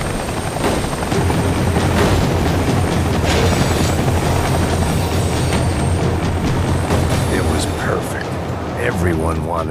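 A tram rolls along in the Max Payne 3 video game, giving a loud, continuous mechanical rumble with rattling and clattering over the top.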